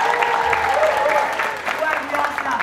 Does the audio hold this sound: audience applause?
yes